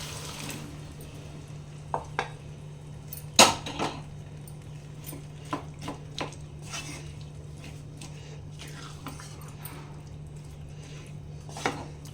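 Boiled chickpeas are stirred into masala in a pan, with scattered spoon clinks and scrapes against the metal over a low, steady background hum and one sharper knock early on; no one speaks.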